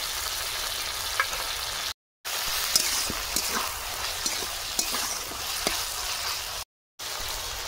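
Garlic paste, ginger paste and chopped tomato fry in a pan with a continuous crackling sizzle, marked by scattered spatters and light scraping strokes, close and without talk.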